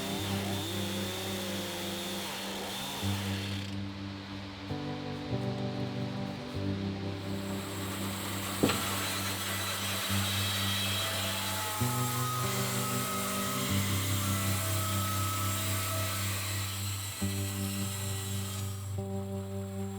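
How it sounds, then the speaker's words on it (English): A chainsaw drones steadily for the whole stretch, cutting wood for boat frames, its pitch stepping up and down as it bites in and eases off, with one sharp knock midway. "knock them down to size with the chainsaw"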